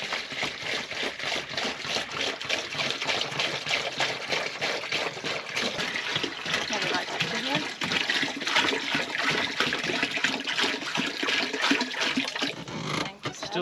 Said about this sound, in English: Waterfall water.